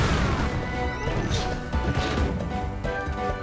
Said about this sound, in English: Keep on smashing and bashing.